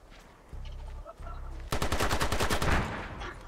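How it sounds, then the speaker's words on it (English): AK rifle fire in the online shooter SOCOM Confrontation, first a few separate shots, then a rapid sustained automatic burst, loud and close with a droning tone underneath. "Oh, you're rocking the AK, Razor."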